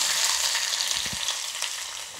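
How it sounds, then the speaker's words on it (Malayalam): Chopped small onions fry in coconut oil with popped mustard seeds for a tomato and drumstick curry, making a steady close sizzle with a couple of brief low knocks partway through, then fading slightly. "അതിലേക്ക് 3 ചെറിയുള്ളി അരിഞ്ഞതിട്ട് കൊടുക്കാം."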